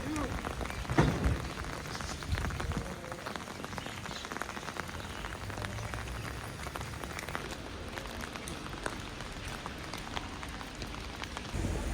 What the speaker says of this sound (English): It's raining, still raining.